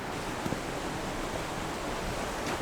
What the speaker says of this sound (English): Rain's coming in pretty heavy now.